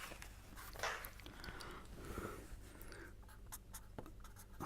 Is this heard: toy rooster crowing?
no